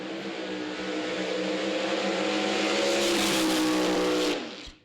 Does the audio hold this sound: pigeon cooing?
no